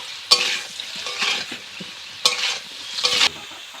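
Potatoes dusted with turmeric being stirred and fried in a pan, with clear scraping strokes of a spatula over a steady close sizzle, several distinct stirring bursts and no talk.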